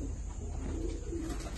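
Soft, steady cooing from a loft of Malwai pigeons, a low rolling murmur of several birds close by, with no voices.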